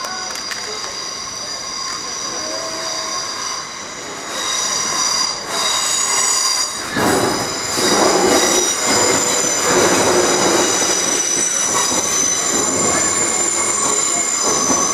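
A train rolls past close by near an 1872 bridge and level-crossing gates in Poole, Dorset, a steady rumble with metallic wheel squeal and clatter that swells after a few seconds and stays loud to the end.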